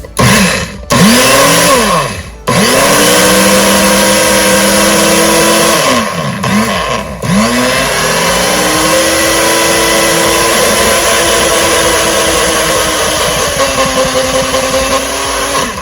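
A loud blender mixing gluten-free pancake batter whirs close by, its motor pitch rising and dipping as it starts, stops briefly, then runs steadily at full speed.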